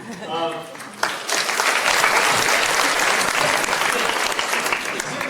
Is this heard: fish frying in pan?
no